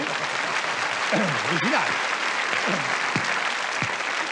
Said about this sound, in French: je vous demande d'ailleurs de bien vouloir applaudir ce titre